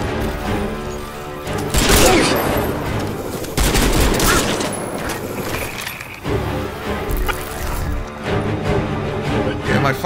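Sustained gunfire and explosive impacts in Crysis 3 Remastered, dense rattling bursts with crashes layered over game music, loud and continuous.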